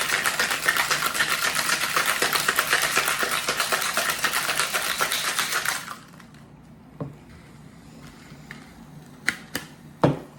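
A whisky sour is shaken hard in a cocktail shaker, a rapid rhythmic rattle of ice lasting about six seconds, then it stops and a few light clinks and taps follow.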